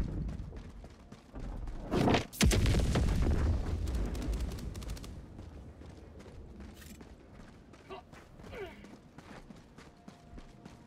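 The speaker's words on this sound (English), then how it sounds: "Calling in an orbital strike" Orbital strike explosions in Helldivers 2, a sharp loud blast followed by a long rumbling roar that slowly fades, with scattered smaller pops and impacts afterward.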